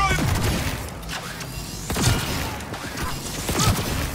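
Powerful wall-piercing gun in Cyberpunk 2077 fires three loud, booming shots roughly a second and a half apart, each with a sharp crack and rumbling tail over a steady game-noise bed.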